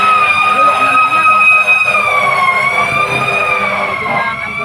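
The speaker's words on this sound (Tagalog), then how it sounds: "Medyo na ang ambulansya, baka may nagsusunod." An ambulance siren wails loudly and steadily up close, its rising and falling tone continuous throughout with faint traffic rumble beneath.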